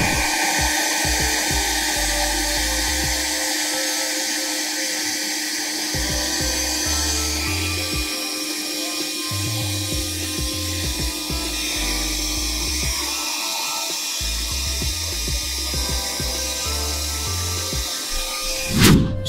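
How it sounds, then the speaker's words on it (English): A hairdryer blows steadily on heat shrink tubing during an Audi A4 LED logo install, a loud, continuous whirring drone that runs close and unbroken, ending in a brief bump. "So I'm just going to use my hairdryer and get that done."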